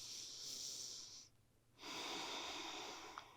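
Close, quiet breathing during a yoga flow, one long airy exhale, a brief pause, then another drawn-out breath, soft and unaccompanied by speech.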